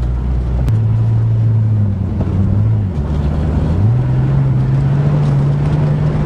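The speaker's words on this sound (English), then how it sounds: "It has two mufflers, but I removed one, so it doesn't have much sound." A 1990 Ford Thunderbird engine with one of its two mufflers removed drones steadily up close, its low pitch rising in steps as it revs through gears, with wind rushing over the microphone and no voices.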